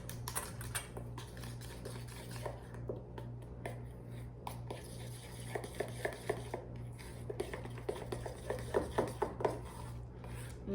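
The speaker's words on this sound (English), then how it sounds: "Okay, now mix all this up." Herbalife pumpkin spice loaf batter being mixed in a bowl, heard as faint, irregular clicking and tapping of the utensil against the bowl over a low steady hum, growing busier toward the end.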